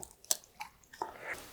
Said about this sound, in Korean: 유자청 소스에다가 찍어서 먹어볼게요